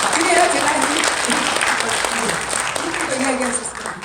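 A lecture audience at a Q&A applauds steadily for several seconds, a dense wash of clapping with voices murmuring underneath.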